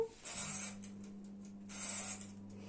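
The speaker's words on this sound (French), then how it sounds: "On va allumer le four." A kitchen oven switches on and sets up a low, steady electrical hum, with a brief click at the start and soft hissing bursts over it, quiet and close, with no one speaking.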